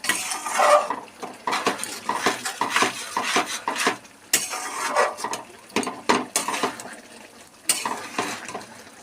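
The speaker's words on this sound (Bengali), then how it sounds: "এই মশলাটাকে পুরো ভালোভাবে মিশিয়ে দেবো" Tarka spice powder stirred into a curry in a pan, heard as close, rapid scraping and clinking of a metal spoon against the pan in busy irregular bursts, with no voices.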